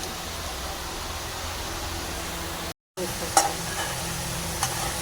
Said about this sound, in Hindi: और ये हमारा मसाला भून रहा है